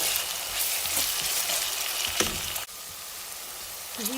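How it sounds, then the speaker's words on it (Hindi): Ginger-garlic paste and onions frying in hot oil give a steady, close sizzle throughout. The sizzle dips briefly as if stirred, then carries on evenly, with no talking. "अब इसके अंदर मैं डाल दूँगी ये अदरक लहसुन का 1 चम्मच पेस्ट और इसको सिर्फ 1 आध मिनट के लिए फ्राई करूँगी।"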